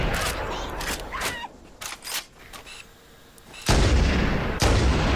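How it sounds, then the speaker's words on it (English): A grenade blast in Halo: Combat Evolved Anniversary, a loud booming explosion among heavy in-game gunfire and impacts, with a sharp burst near the end after a quieter stretch. "so toss a grenade"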